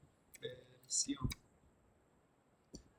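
A few sharp, quiet computer mouse right-clicks tick out in a near-silent room, with a faint breathy murmur between them.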